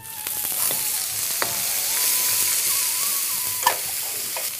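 Onions sizzle steadily in hot oil with chana dal, urad dal and curry leaves in a pan, a continuous close frying hiss broken by a few sharp spatula clinks and stirs.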